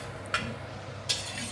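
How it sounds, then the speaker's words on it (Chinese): Garlic stir-fried until crispy and golden in a wok, heard as a soft steady frying hiss broken by two brief scraping clinks of the utensil against the pan. "蒜米炒到脆，有点金黄色了。"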